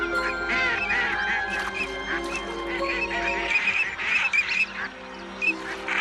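A flock of ducks on the Doñana marshes at the end of winter, with a dense mix of quacking and honking waterfowl calls overlapping continuously at moderate distance.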